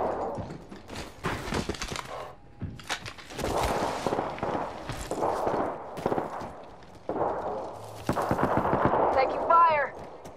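Bursts of automatic gunfire in the video game Apex Legends, rapid volleys broken by short pauses, with footstep thuds and in-game effects between them.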